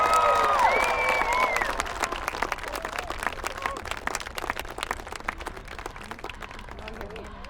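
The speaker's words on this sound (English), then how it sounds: "please give me a round of applause for our nation's newest soldiers" Crowd applause for the newest soldiers of Charlie Battery at a basic combat training graduation, sustained clapping with some cheering from a large audience, fairly distant and slowly fading, with brief voices near the start.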